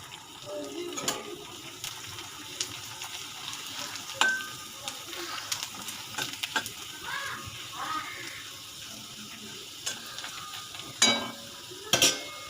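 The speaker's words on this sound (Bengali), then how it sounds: "দেখো পাশে একটা কড়াই বসিয়ে দিয়েছি। আমি এখানে পাঁপড়গুলো ভেজে নেব।" Small sago papads fry in hot oil in a kadai, giving a steady close sizzle with occasional sharper crackles and clinks of a spatula stirring.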